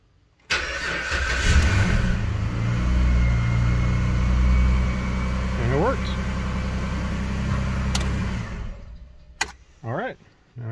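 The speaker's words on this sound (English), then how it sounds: "So, let's see if it starts up." A Jeep Liberty engine cranks and starts with a newly programmed key, then settles into a loud, steady idle close by, with voices talking over it and a few clicks near the end.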